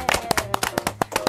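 A small group at a studio talk show claps briefly in a quick, uneven series of sharp, close hand claps lasting just over a second.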